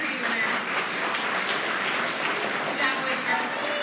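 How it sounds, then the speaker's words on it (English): A school awards audience applauds its Integrity award winners, a steady, fairly dense wash of clapping that holds at an even level for the whole stretch. "One more round of applause for our Integrity winners."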